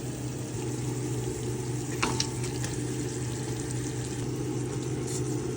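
Hilsa fish head frying in a spice paste in a large pan, a steady close sizzle with a brief clatter midway, no talking.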